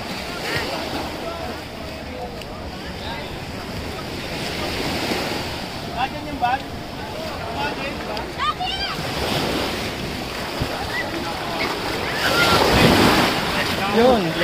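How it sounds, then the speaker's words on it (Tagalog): Surf washing onto a sandy beach resort shore facing the South China Sea, a steady wash of waves with wind buffeting the microphone, swelling louder near the end, with people talking faintly over it. "Hindi malakas yung alon mga tol pagdating dito."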